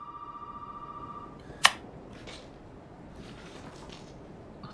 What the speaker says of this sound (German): Dann gehen wir zum Telefon, wenn das Telefon klingelt.